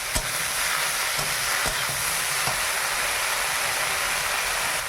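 Salted spinach fries in a pan with a loud, continuous hiss and crackle, close up, with a few sharp clicks from stirring cutting through the steady sizzle.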